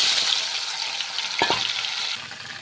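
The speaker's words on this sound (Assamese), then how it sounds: "হালধি নিমখখিনি অকণমান ভাজি লওঁ" Turmeric and salt fry in hot oil in a pan while paneer is being prepared, a steady loud sizzling hiss with a brief clatter of stirring midway.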